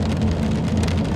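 Steady simulated rain in the X-Plane 11 flight simulator, heard from the cockpit as a loud, dense, continuous patter with a low rumble underneath, unbroken throughout and with no voices.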